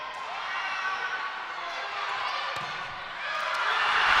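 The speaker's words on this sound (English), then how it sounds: "You can hear the crowd going crazy" Crowd roaring at a high school volleyball game between Holbrook and Show Low in a gym, a broad sustained wash of cheering that swells louder toward the end, with scattered sharp thuds.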